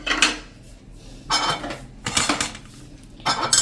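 A spoon scrapes and clinks against a pot in repeated short bursts as churma laddu mixture with cardamom, nutmeg, cashews and almonds is stirred together close by.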